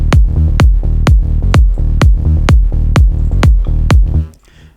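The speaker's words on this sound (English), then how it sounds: "So together kick and bass sound like this." Electronic music plays a kick drum and sub bass together: nine evenly spaced punchy kicks over a deep sustained bass line, loud and alone, cutting off near the end.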